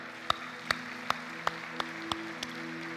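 At a student parliament event, slow, evenly spaced single claps ring out about seven times at a measured rhythm over a steady electrical hum, sounding sparse rather than like a full crowd.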